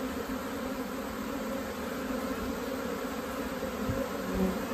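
A honeybee swarm being hived drones in a dense, continuous buzz, close and steady throughout, with no talking.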